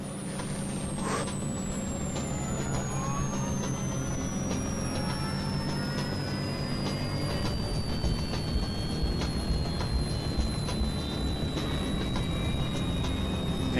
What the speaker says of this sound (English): Sukhoi 36801, cleared for takeoff. Runway 6.